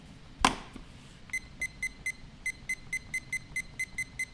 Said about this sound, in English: I have to set a timer.